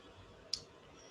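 A single sharp computer mouse click sounds once, crisp and close, against a quiet background during a walkthrough of filter buttons in a web app.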